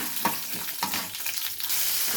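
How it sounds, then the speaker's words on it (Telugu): Peanuts and tempering spices crackle and fry in a little oil, a steady broadband sizzle with a few brief sharper pops, close by and with no talk. "సేమ్ పల్లీలు తాలింపులు కొద్ది నూనె పోసుకొని"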